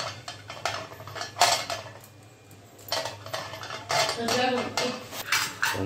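Metal idli moulds clink and rattle while being greased with oil, bursts of close metallic knocks and scrapes with a brief quiet gap in between.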